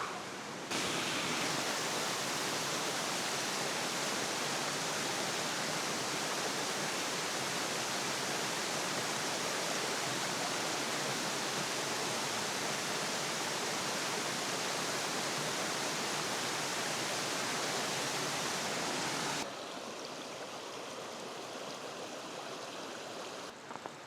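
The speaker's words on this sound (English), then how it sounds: "now that we're away from the noise of the falls" Steady roaring rush of the waterfall at Whistlepipe Gully, loud and continuous with no voices, then dropping slightly quieter near the end.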